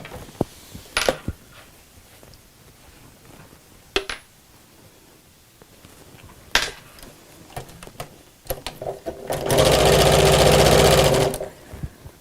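A sewing machine stitches across the top of a fabric bag piece with the handle tucked down, running as a steady, loud burst for a couple of seconds near the end after quieter handling clicks and knocks.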